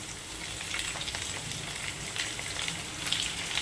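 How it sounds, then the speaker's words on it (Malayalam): Curry leaves fry in hot oil with garlic, giving a steady, close crackling sizzle with small pops throughout and no voices. "ഇനി നമുക്കിതിലേക്ക് കുറച്ച് കറിവേപ്പില ഇട്ട് കൊടുക്കാം"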